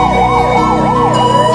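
A fire truck carrying a ladder arrives at a hospital, its siren wailing loud and near in repeated rising and falling sweeps over a low engine rumble.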